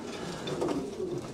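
Racing pigeons coo softly inside a loft, a low throaty burbling murmur rising and falling close by over a faint background hum.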